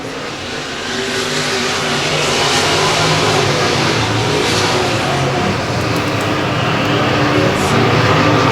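Race cars roaring through a heat race at Humboldt Speedway, a dense, sustained engine drone that swells and holds loud as the field circles the track.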